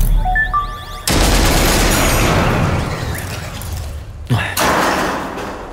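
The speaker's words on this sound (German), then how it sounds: "Ihr Schuss war aber auch ganz vortrefflich." Gunshot sound effect in a German science-fiction audio drama, a sudden sharp blast that cuts in after a quiet stretch, followed by a sustained noisy roar and a second heavy thump near the end, with music-like tones early on.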